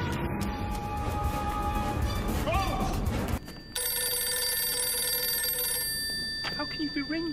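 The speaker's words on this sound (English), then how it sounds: "What am I supposed to do with a ringing phone?" A telephone bell rings in a rapid metallic trill, loud and near, continuing for several seconds amid background noise and brief voices.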